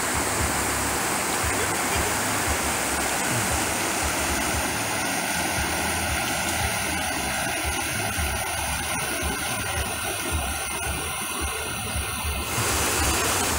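River and waterfall at a bathing spot at the Cascata do Burica, a steady rushing roar of flowing water close by that continues throughout, with a faint mechanical hum partway through.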